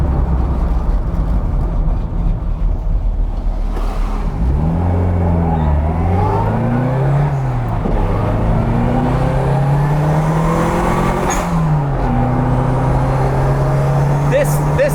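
A turbocharged Mini Cooper 1000 cafe racer revs hard, its exhaust rising and falling through several loud, close throttle sweeps with a steady engine drone underneath throughout.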